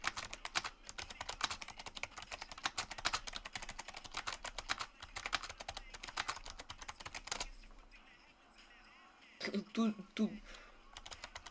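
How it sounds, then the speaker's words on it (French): Fast typing on a computer keyboard during a live Among Us session, a dense stream of close key clatter for most of the stretch before it stops, with a voice briefly talking near the end. "Ok, j'écris vite."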